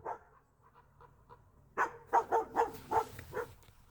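A dog at a garbage dump growls low and quietly, then lets out a quick series of five or six sharp barks close by.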